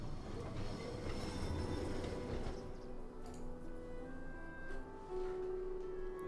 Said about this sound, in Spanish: Y ahí vamos, tranvía.